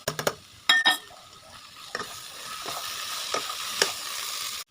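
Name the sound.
stirring potato and fenugreek greens frying in a pan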